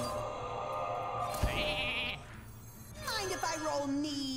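Hearthstone sheep bleats from a polymorph spell ring out between electronic effect sounds and a brief thud, with a short pause in the middle.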